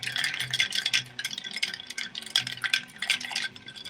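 A bar spoon stirs ice in a mixing glass for a Plantation Stiggins rum cocktail, giving a close, rapid, rhythmic rattle and clink that repeats steadily throughout.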